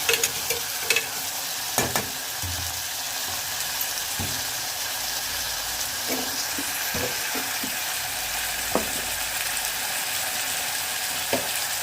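Small sour tomatoes with green chillies sizzle in a pan over a raised gas flame, a soft steady fry broken by scattered scraping clicks of a spoon stirring, close and quiet.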